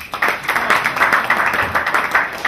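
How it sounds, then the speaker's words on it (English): A seated audience at a formal address claps steadily, a moderately loud, even patter of many hands continuing for a couple of seconds with no talk over it. "So clap for me for that."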